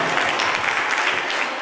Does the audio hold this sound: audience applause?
yes